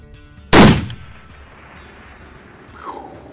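A single loud, sharp rifle shot fired at a target outdoors, followed by a fading echo and quiet ambience.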